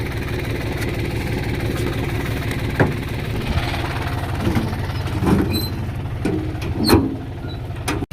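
A tractor engine runs steadily in a field, where one tractor is stuck in mud and a second has been brought back to pull it out, a loud continuous rumble with a few clanks and no talking.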